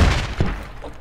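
Grenade detonating in a multiplayer shooter game, a short heavy low thump followed by a second muffled thud and a quick tail of rumble.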